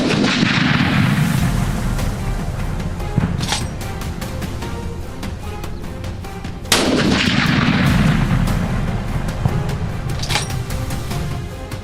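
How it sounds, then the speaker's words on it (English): Rifle shots ring out during a wild boar hunt in the woods, two loud, sharp reports several seconds apart, each rolling into a long echoing decay over steady background rumble. "A single shot rang out, clean and precise."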